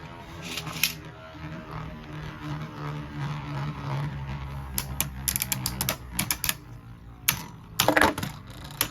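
Beyblade Burst tops Odax and Yegdradon spin and clash in a stadium after launch, giving a steady whirring with sharp clacking hits and scraping bursts that grow louder toward the end.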